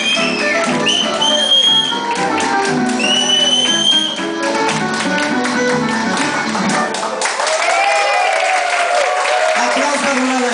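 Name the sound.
crowd applause at a party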